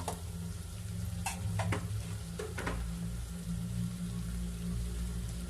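Spices such as red chili, turmeric and dried coriander stirred into a pan for aloo bhujia, with a steady low sizzle and a few light scraping taps of the spoon, close and alone with no talk.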